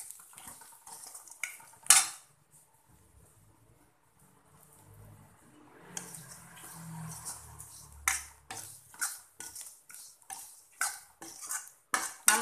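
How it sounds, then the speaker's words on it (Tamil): Semolina (rava) and onions roasting in a pan over medium flame, with repeated sharp clinks and scrapes of a spoon against the pan, quiet at first, then a quick run of metallic taps. "போட்டுட்டு இதுலேயே நம்ம அப்படியே வறுக்கணும்."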